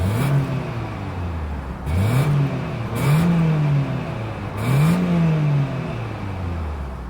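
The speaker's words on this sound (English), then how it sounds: "As always, here is that exhaust clip." Single-outlet exhaust of a 2026 Toyota Highlander revving in four rising-and-falling throttle blips over a steady idle, close and fairly loud, with no talking.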